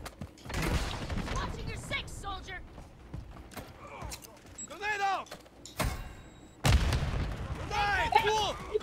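A grenade goes off in Modern Warfare 3 multiplayer with heavy booms and blasts over game noise, with players talking throughout.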